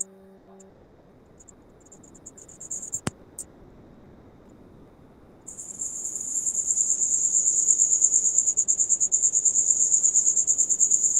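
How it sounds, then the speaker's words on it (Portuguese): Cricket chirping indoors in a house, a steady high-pitched trill that grows louder and continuous after a brief sharp click, with faint intermittent chirps before it. "É um barulhinho, parece que é grilo."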